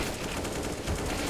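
Pistol gunfire rattles in Counter-Strike during an ESL Pro League match on the Anubis map, with rapid, overlapping shots from several guns forming a dense, steady volley of moderate loudness.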